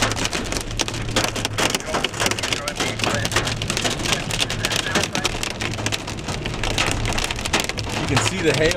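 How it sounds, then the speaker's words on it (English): Hail and heavy rain pelting a vehicle during a severe storm, a loud continuous dense drumming of impacts with scattered sharper hits throughout. "You can see the hail coming at you."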